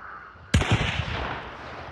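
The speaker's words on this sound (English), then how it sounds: "I'm gonna start shooting" A single sharp, loud gunshot from a Winfield or LeMat firing slugs in the video game Hunt: Showdown, with a booming report and a rolling echo that tails off.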